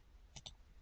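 A pair of quick, close mouse clicks, made while saving a file in Visio 2010 Professional, land in fast succession against a very quiet background.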